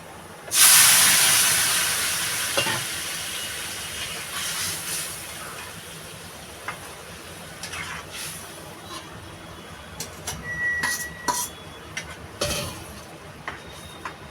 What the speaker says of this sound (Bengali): রসুনটা দেখেন আমার ব্রাউন হয়ে গেছে আমি এবার তরকারিটা ঢেলে দেবো